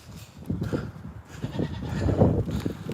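Goats bleat at night during bottle feeding time on a farm with donkeys, a few overlapping bleats from close by, rising louder toward the end amid shuffling, with no talking.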